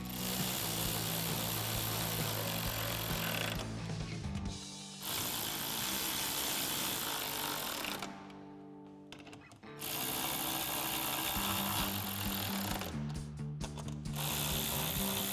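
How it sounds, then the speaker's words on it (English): A 10mm socket ratchet tightens headlight bolts on a 2018-2020 Ford F-150, giving continuous close mechanical clicking and whirring with brief breaks, over a busy workshop background. "And then we'll take a 10mm socket and tighten these down."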